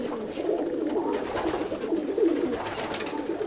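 Loft pigeons in Ptolemaida give a continuous chorus of low cooing, several birds layered together nearby, steady and moderately loud throughout, with no speech.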